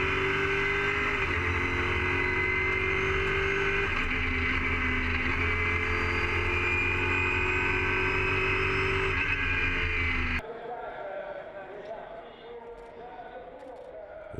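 Mosler GT race car at the start of an endurance race at Catalunya, its engine droning loud and steady with higher revving layered over a constant low roar, then abruptly cut to a quieter, rougher engine rumble near the end. A voice talks over it.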